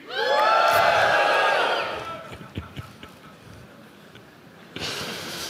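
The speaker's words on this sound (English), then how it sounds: "give the biggest scream you can" A conference crowd at a start-up competition awards ceremony screams loudly on cue, a dense sustained roar of voices peaking for about two seconds and then fading, followed by scattered sounds and a brief renewed burst near the end.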